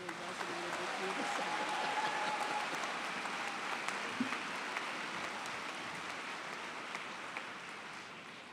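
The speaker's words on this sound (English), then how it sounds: "Let's give one more round of applause to all the graduates today." A crowd at a university graduation ceremony applauds the graduates with steady, dense clapping that fills the hall and slowly fades toward the end.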